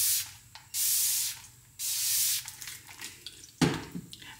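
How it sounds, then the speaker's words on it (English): Alcohol is sprayed onto freshly poured cold process soap in two loud, hissing bursts of about a second each, followed by soft handling and clicking sounds close by. "give it a bit of spray with some alcohol"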